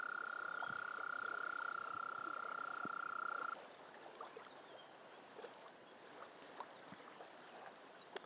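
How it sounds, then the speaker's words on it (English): A frog or toad at a misty spring state park gives a steady high trill for several seconds, then stops, leaving quiet outdoor ambience with faint trickling water and scattered small clicks. "frog or something, toad."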